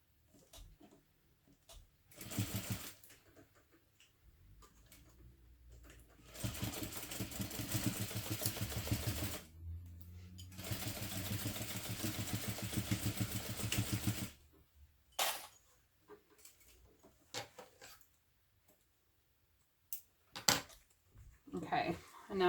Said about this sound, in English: sew again directly over the stitching from the other side